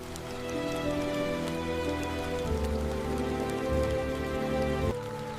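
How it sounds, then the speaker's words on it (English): Rain sweeps across a wetland, a dense, steady wash of drops that holds loud and even throughout, with a low rumbling undertone and tonal layers mixed in. "Rain sweeps across the wetland."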